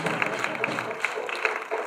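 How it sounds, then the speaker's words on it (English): A round of applause for His Excellency at an ECOWAS parliamentary seminar: a steady mass of clapping from the audience, with a murmur of voices mixed in. "A round of applause for His Excellency."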